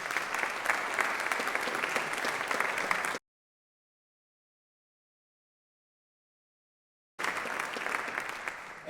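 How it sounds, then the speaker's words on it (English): Audience at a climate innovation summit in Chicago applauding panel speakers as they come to the stage, steady clapping that cuts out abruptly partway through and then resumes. "so give them a round of applause"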